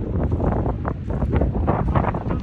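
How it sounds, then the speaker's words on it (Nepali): Strong wind gusts roar across the microphone in Upper Mustang, Nepal, near a bridge over the Kali Gandaki, a loud, continuous buffeting rumble with no voices. "हावा चाहिँ एकदम निस्के चलिरहेछ"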